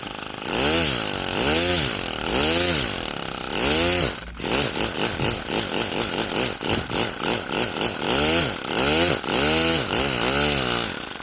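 A 3D printed single-cylinder air engine runs with a buzzy, weed-trimmer-like rasp, revving up and down in repeated loud surges close by, with a brief dip midway and no talking.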